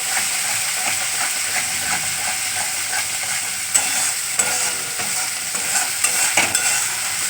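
Dense, steady sizzle of curry masala for dahi potol frying in oil, with a spoon repeatedly scraping and stirring through it in the pan, close and loud, a few sharper clinks near the end, no talking.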